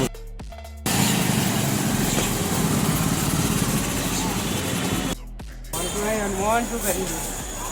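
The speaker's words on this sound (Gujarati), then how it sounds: "હા ભાઈ પણ બાઈક કાઢે છે" A motorbike being wheeled out at a village market, its small engine running steadily up close with a broadband drone, briefly cutting out and then resuming, while people talk nearby.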